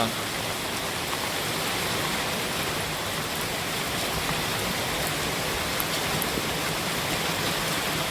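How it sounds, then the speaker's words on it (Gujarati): Steady rain falls in a village after a night windstorm, a dense, even hiss of drops on surfaces with no pauses, moderately loud and unbroken throughout. "પવન પડી ગયો ને વરસાદ ચાલુ થયો છે"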